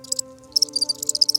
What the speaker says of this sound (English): The crickets are singing about how they eat the grass and the plants